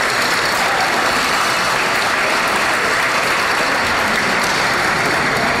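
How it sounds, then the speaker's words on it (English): Sustained applause from a large audience at a press conference, dense continuous clapping at steady loudness for several seconds without pause. "So, yeah, you clap it up."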